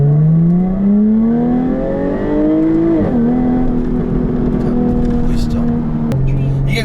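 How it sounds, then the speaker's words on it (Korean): A Jaguar F-Type 3.0S with a supercharged engine sings a rich exhaust note, climbing through the revs, dropping at a quick gearshift, then holding a steady drone before another shift, loud and close. "F5의 배기음이 어, 상당히 좋은데 한 번씩 늘어지는 소리가 있어요."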